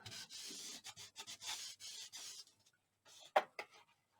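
Paper being rubbed and burnished over a glued flap on a handmade Thanksgiving mini album, a series of soft close scraping strokes, then a brief pause and a sharper tap or rub near the end.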